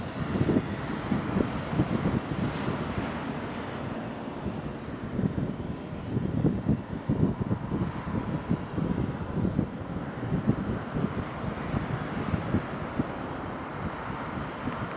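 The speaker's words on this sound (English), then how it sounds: "TAP Air Portugal vai de volta para Lisboa. Um Airbus A321." A TAP Air Portugal Airbus A321 airliner taxies at Madeira Airport, a steady low engine rumble and whine heard from outside, mixed with constant wind buffeting on the microphone throughout.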